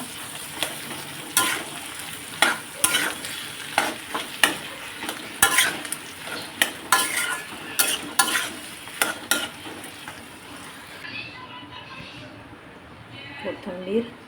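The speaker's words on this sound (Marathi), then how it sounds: "चवीप्रमाणे मीठ, मिक्स करून घेऊया चांगलं." Potatoes and vegetables, salted to taste, are stirred in a pan with a series of rhythmic scraping, clinking strokes over a frying hiss. The strokes fade out near the end.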